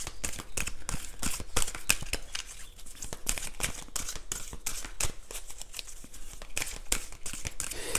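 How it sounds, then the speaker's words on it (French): A card is drawn from a deck amid repeated crisp flicks, slides and papery snaps at an irregular pace, close and fairly quiet, with soft rustling between them. "on va en prendre juste une dernière petite carte pour terminer ici"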